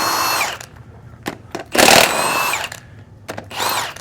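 A powerful impact tool whirs in short loud bursts while loosening very tight lug nuts on an aluminum wheel, several spaced runs with brief pauses between them.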